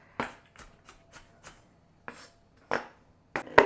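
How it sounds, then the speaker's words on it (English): An onion chopped finely on a board, as for a skillet chicken pot pie filling: about ten separate knife strikes, some light and some sharp, spaced irregularly with short silent gaps, close and clear. "We're going to kind of chop it up real good. We do not want big chunks of onion in this."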